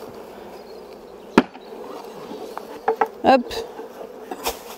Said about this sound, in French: Il va falloir taper la ruchette pour pouvoir récupérer un maximum d'abeilles